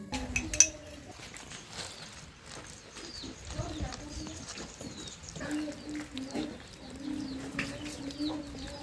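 Pigeons or doves coo softly in a tree outside a house, with a few scattered bird calls over a quiet outdoor background.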